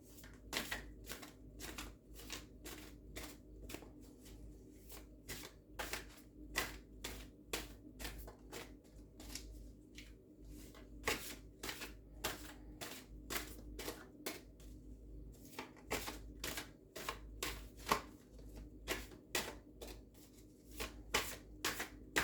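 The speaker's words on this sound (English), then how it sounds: "since it is an 8 card, I will be shuffling it 8 times." Tarot cards being shuffled by hand, a long run of sharp riffling bursts in irregular clusters with brief pauses between rounds, close and fairly quiet, with no talk.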